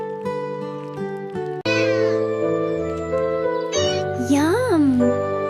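A ginger kitten meows in a high, tonal voice with rising and falling pitch, close and clear, over a steady outdoor background at a camping setting.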